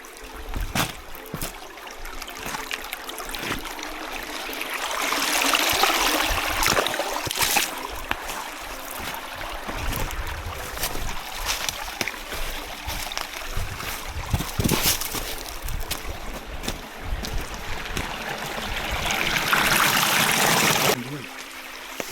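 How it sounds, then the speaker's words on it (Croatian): A mountain stream flows over rock, with a steady close rush and trickle of water that swells and eases. "Vidite ovdje došli smo na dio potoka koji prolazi preko stijene."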